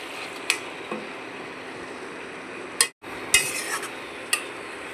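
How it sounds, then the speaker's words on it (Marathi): Cooked takla greens being stirred with turmeric in a pan, heard as a few soft scrapes and light clinks of a spoon against metal over a quiet background, with no talking. "आता त्याच्यामध्ये हळद घालून घेऊया आणि चांगलं मिक्स करून घेऊया."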